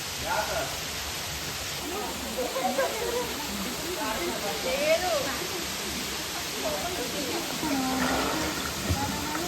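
Blue-water waterfall, a steady broadband rush of falling water throughout, moderately distant and even, with people talking over it.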